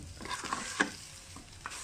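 Chili paste with canned fish sizzles and scrapes in a hot pan over medium heat as it is stirred, with a few sharper clinks of a utensil against the metal.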